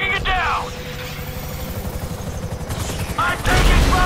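Gunfire in Grand Theft Auto 5 during a rooftop fight with an FIB helicopter, a dense crackling fusillade of rapid shots, loud and close, with shouted voices over it.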